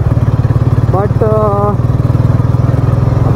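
A motorcycle rides through traffic on the road to Powai in hot afternoon heat, its engine a steady, close, low pulsing drone throughout, with a voice talking over it.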